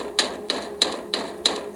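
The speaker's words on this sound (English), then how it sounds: "The banging then moved from the lockers to our classroom door." Banging on a classroom door: five sharp, evenly spaced knocks with a hard, bright edge, close and fairly loud against a quiet background.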